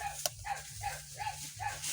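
A series of short, muffled barks repeats at a steady pace over a low hum, faint and somewhat distant.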